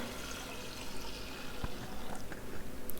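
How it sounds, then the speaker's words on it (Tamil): Water pours into a pressure cooker holding toor dal, a continuous close splashing fill that grows fuller and more gurgly toward the end, with no talking. "தேவையான அளவுக்கு தண்ணி ஊற்றிக்கலாம்."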